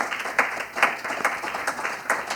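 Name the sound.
audience round of applause for panel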